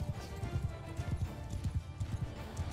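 Horse hooves gallop in the medieval battle game Mount & Blade II: Bannerlord, a dense rhythmic drumming of many hoofbeats from a line of horse archers, steady and close, with a faint voice underneath.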